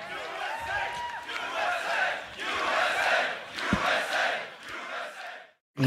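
A large arena crowd at the Grand Beatbox Battle 2023 World League solo elimination roars and cheers continuously, swelling in waves with shouts rising above the din, then cutting off abruptly near the end.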